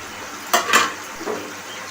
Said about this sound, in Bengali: এবার ভেজে রাখা ডিমগুলো ছেড়ে দিলাম